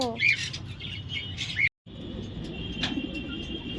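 Pigeons coo nearby in two short throaty calls, separated by a brief silent gap, over a soft background hum.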